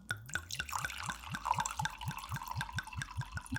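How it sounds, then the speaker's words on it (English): Wine pours into a glass in a close, quiet room, a run of bright, regular liquid glugs and drips lasting a few seconds with no talking. "Pour me another glass, would you?"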